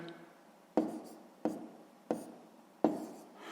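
Pen or pencil writing out a sixth-grade math solution by hand, with four short scratchy strokes arriving at a steady rhythm, close and quiet, with no talking.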